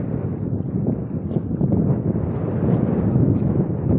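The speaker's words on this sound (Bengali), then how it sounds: "বাতাসের পাওয়ার কত।" Strong wind buffets the microphone with a constant low roar and gusty rumble, loud and unbroken throughout.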